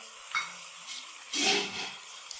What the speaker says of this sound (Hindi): अच्छे से इसको मिक्स कर लेंगे।